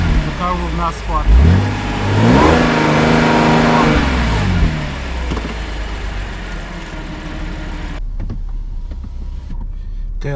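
An Audi S4 held on the brakes for a launch revs hard and climbs in pitch, then settles into a loud, strained drone. A person talks over the engine noise.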